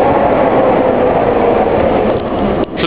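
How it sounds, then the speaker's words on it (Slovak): Tram passing outdoors on a city street, a loud, steady, close rolling rumble that fills the whole moment and eases off near the end. "Električka."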